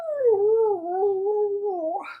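A person's voice imitates a dog's howl, one sustained, wavering tone lasting about two seconds that lifts at the end into a brief yelp, close and clear with no background noise.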